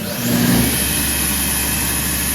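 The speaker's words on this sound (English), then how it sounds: "To turn on this sander, you twist the red, press the green." An electric sander for a nightstand project runs at a steady high whine, loud and close, with a brief swell as it starts up.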